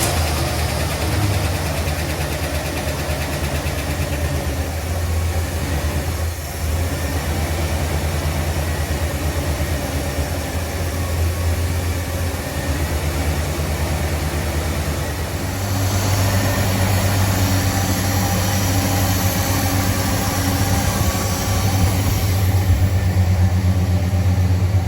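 A 1974 Dodge Coronet engine runs at a steady, loud, rumbling idle, with a low throb throughout and a rise in intensity about two-thirds of the way through, heard alone without voices.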